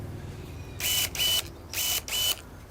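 An AEG or RIDGID 18v cordless battery secateurs snips a thin 3 mm stem, giving four short, sharp motorized buzzes in two quick pairs, close and loud against a quiet background.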